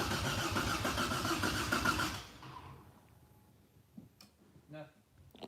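Toyota Supra engine cranking without starting, a loud, rapid, rhythmic churn for about two seconds that stops abruptly, followed by quiet workshop ambience with brief clicks and a voice.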